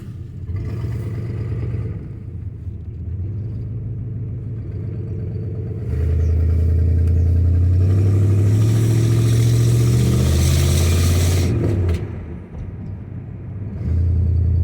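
A Chevrolet El Camino with a 305 V8 idles with a deep, steady rumble, then revs up louder and holds before dropping back and rising again, heard up close without anyone talking.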